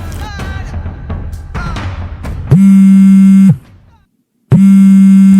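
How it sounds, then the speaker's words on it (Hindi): A telephone rings with two long electronic buzzing tones separated by a short pause, loud and close, after some clattering background noise. "लो आ गया फोन।"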